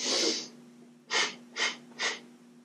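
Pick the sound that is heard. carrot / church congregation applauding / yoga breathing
yoga breathing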